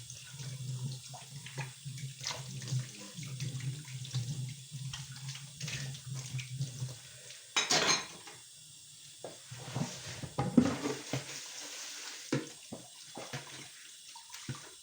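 Water runs from a tap and splashes while a carpet is being washed, a soft hiss with intermittent sloshing and scrubbing bursts, fairly faint and without speech.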